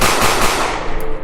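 Rapid burst of gunfire, several shots fired in quick succession at close range, loud and sharp with no speech over it.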